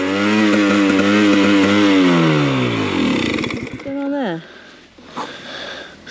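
A two-stroke snow vehicle engine revs high and then falls away in pitch, followed by a few short blips, with people talking nearby on a winter ride.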